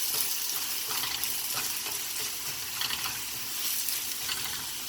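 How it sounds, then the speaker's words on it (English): Garlic frying in a hot pan while being stirred for a cauliflower steak dish, a steady, dense, close sizzle with faint scraping of the stirring, and no talking. "after 30 seconds, I will add garlic. We'll give it a quick stir."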